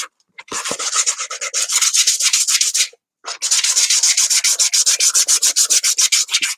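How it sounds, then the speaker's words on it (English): A sanding block rubs back and forth over a gessoed surface in quick, rhythmic strokes, close and loud, with a short pause partway through before the strokes resume, and no voices. "But I knew where my sanding block was."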